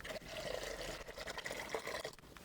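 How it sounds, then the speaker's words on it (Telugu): A soft, continuous stream of water pouring into a pot, a cup and a half measured for rice-flour dough, close by and fairly quiet, lasting a couple of seconds with slight gurgling variations. "కప్పున్నర నీళ్లు పోసుకుందాం"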